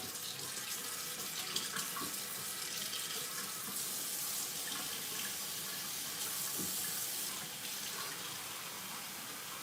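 Tap water running steadily into a sink while bread dough is being made, a constant close hiss and splash lasting throughout with no talk.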